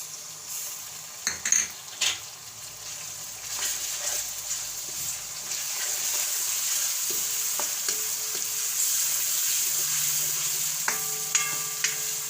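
Onion and tomato fry in oil with tempering for chavana shaak, a steady bright sizzle holding throughout with a few spoon knocks early and faint clinks near the end, close and even, no talking.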